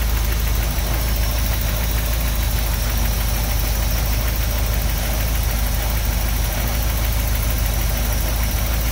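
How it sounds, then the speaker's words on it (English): A 1983 Porsche 944 engine runs steadily after starting, with a continuous close idle and a faint knocking rattle, no voices. "We'll go ahead and start the car."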